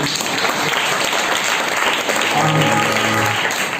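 A church congregation claps hands together in a loud, dense burst, with a low hum and faint tones beneath the clapping.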